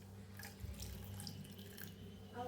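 Water trickles and splashes close by for a couple of seconds as it is poured into a dish of greens, a soft steady pour with small gurgles and no speech.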